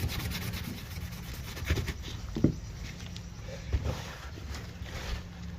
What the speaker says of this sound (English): I want to see if I can get most of the stuff off this blade just using the Scotch Brite.